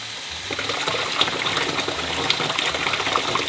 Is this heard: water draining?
yes